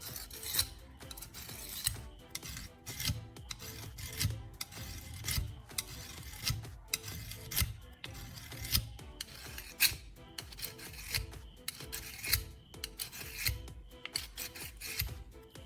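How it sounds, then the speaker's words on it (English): A knife blade sharpened with steady, even strokes, giving a repeated rasping, scraping rhythm of short strokes at close range, fairly quiet and consistent, with no voices. "start sharpening the knife with steady, even strokes"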